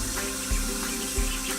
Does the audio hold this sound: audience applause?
no